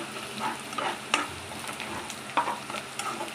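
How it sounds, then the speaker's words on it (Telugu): Finely chopped onion and thinly sliced green chillies frying in a pan: a constant hissing sizzle with irregular spatula scrapes and clinks close by. "అది వేసుకొని బాగా ఫ్రై చేసుకోవాలి."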